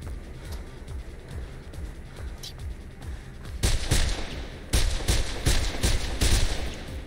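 Rapid bursts of gunfire from the video game Mirror's Edge crack out in clusters, growing louder and denser partway through, with some faint talk underneath.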